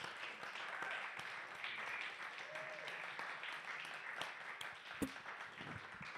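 Steady applause from an audience, a dense wash of clapping that holds for several seconds at a moderate, distant level.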